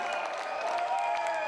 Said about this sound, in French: Je vous demande d'applaudir chaleureusement les potagers et toute leur performance de cette soirée.